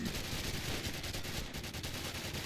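Sniper rifle fire in the video game Call of Duty 4 crackles in a series of sharp, repeated shots over a dense battlefield din.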